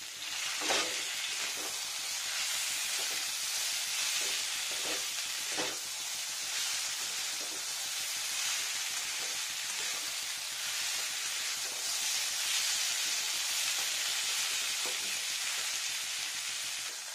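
Tomato, soybean chunks and bottle gourd stems fry in a pan with a dense, steady sizzle and hiss, broken by occasional soft stirring scrapes, with no voices.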